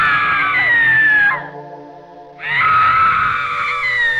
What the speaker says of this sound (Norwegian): Et grusomt skrik gikk gjennom hele Egypt.